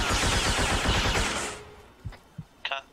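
Gunfire in a Star Wars roleplay video game: a dense, loud burst of rapid shots fills the first second and a half, then fades, followed by a few isolated sharper reports and a brief metallic clatter.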